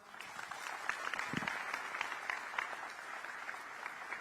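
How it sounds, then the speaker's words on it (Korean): Applause from the audience at a Korean community gathering with the president in Singapore, a steady wash of clapping that holds at an even level for a few seconds. "다시 한번 큰 박수 부탁드리겠습니다"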